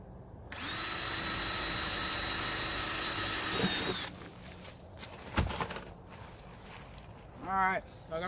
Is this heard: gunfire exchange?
no